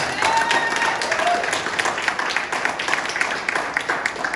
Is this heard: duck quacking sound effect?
no